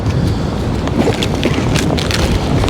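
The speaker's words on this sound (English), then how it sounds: "It is very, very windy" Strong wind on a sea shore during a UK sea fishing session, a steady, loud roar that buffets the microphone throughout, with no voices.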